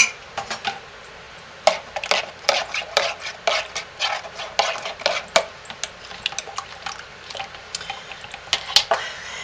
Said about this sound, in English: we're going to stir those up